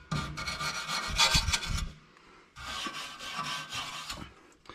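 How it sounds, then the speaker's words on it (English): Brake pads from a 2014 Ford F150 are scrubbed clean in two separate bursts of harsh rubbing and rasping. Each burst lasts about two seconds, with a short pause between them, and the sound is close with no speech. "clean up these pads a little bit"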